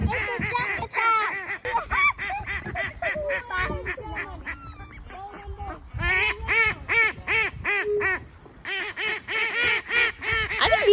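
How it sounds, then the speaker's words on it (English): A flock of ducks crowds close around people outdoors in Saint-Émilion, Bordeaux, and keeps up loud quacking and honking. The calls come in rapid, overlapping bursts with brief pauses and build into a dense chorus. "It's a duck attack!"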